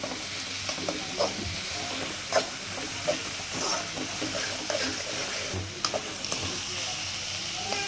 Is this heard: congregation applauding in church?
no